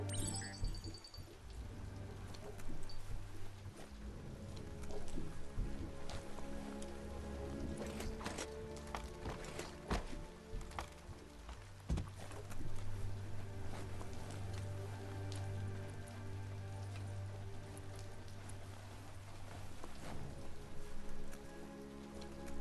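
Steady rain pours down in the video game Biomutant, a dense constant hiss with scattered drop patter over a low rumbling bed, continuous for the whole stretch and never clearing.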